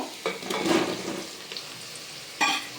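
Onions and mushrooms frying in a pan give a soft, quiet sizzle, broken by a few stirring scrapes and clinks, close up with no talk.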